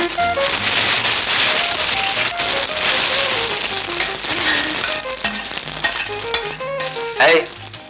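Tempering spices crackle and sizzle in hot oil in a home kitchen, with a dense popping hiss close by and a sharper burst of spattering near the end, under soft background music.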